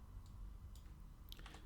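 Soft, quiet key clicks from typing on a computer keyboard, a few scattered taps building to a quicker cluster near the end, heard alone over low background hum.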